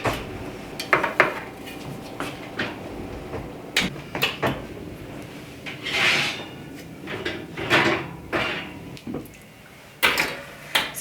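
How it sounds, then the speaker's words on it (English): Metal cupcake and cake pans clatter and scrape as they go into a home oven, with a series of sharp clanks and a door or rack sliding, loud and close, no voices. "and into the oven they go"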